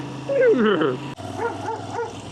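A dog yelps and barks up close at someone walking past on a country path, giving a whiny, yipping vocal burst, a short pause, then a few more softer whimpering barks.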